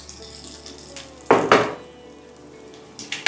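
Bay leaves and star anise dropped into hot smoking mustard oil give a sudden close crackling sizzle that bursts twice and then fades. A faint fresh sizzle comes near the end.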